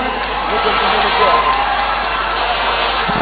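Crowd applause and cheering for outgoing Governor Evans Kidero at a county handover ceremony, a dense continuous roar of clapping with shouts mixed in.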